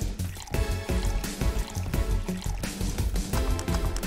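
Liquid poured in the cyberpunk bartending game Va-11 Hall-A, a frothy fake-beer drink filling a glass in a steady trickle over a busy, loud music bed.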